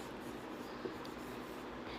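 Pen or chalk writing out a Class 10 real-numbers maths solution, a steady soft scratching that runs through the whole stretch at low level with no talk over it.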